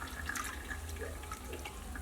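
Homemade apple beer is poured through a strainer into a bucket, giving a soft, continuous trickling and splashing of liquid, faint and close.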